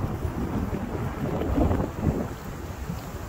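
Strong wind buffeting the microphone on a cold Brooklyn morning near the Manhattan Bridge, a loud, low, irregular rumbling roar with gusts rising and falling throughout.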